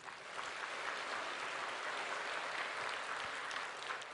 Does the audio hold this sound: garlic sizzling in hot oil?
no